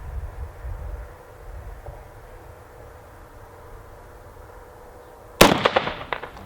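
A single sharp rifle shot from a BCM rifle at an outdoor range, loud and sudden near the end with a brief echoing tail after a quiet stretch.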